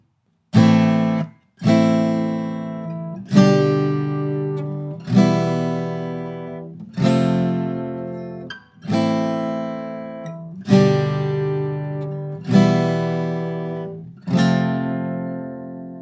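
Acoustic guitar strums through the verse chords of a song, eight full strummed chords, each ringing out before the next, played alone at a steady, moderate pace.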